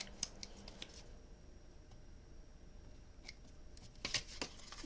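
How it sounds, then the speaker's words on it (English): Small scissors snip paper for a scrapbook, with a few quick, crisp cuts spaced apart, close and quiet against a faint background hiss. "I use the smaller scissors just to get that little bit there."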